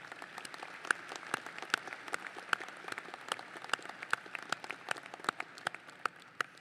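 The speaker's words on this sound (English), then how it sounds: "Please join me in a round of applause for Chris Kraris." Graduation audience at an Albright College commencement gives a round of applause honoring Chris Kraris, a steady wash of many hands clapping with sharper individual claps standing out, moderately distant and fairly quiet throughout.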